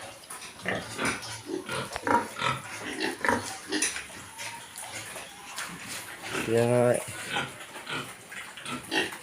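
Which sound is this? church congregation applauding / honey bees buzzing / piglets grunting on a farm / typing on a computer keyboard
piglets grunting on a farm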